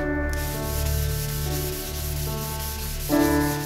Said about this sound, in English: use a crosshatch pattern when you're sanding